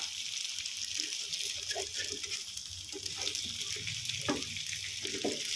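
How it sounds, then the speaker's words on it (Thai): Steady, dense sizzling of batter and mussels frying in a hot pan, with occasional soft clinks and stirring noises, no talking. "ใส่แป้งพร้อมหอยลงไป"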